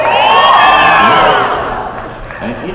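A comedy club audience at a police K9 benefit show cheers loudly, with high whoops and whistles that swell at once and then fade over a couple of seconds.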